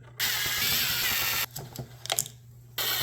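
Blower tube being taken off a John Deere 3E leaf blower: a loud, close scraping hiss of plastic sliding, then a few knocks and clicks, followed by another burst of scraping.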